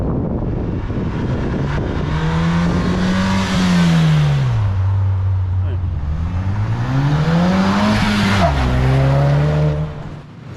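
A 2022 Ford Bronco 2.3L fitted with a Roush axle-back exhaust revs up and drops back twice, the engine note rising and falling loudly up close with a raspy, throaty edge.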